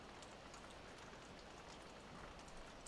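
Steady rain pours in Farming Simulator 17 at the start of early winter, a dense, even hiss with fine drop patter that holds constant throughout with no voices.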